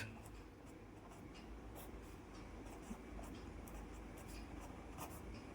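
A pen scratches steadily across paper, quiet and close, in a run of short strokes with no talking.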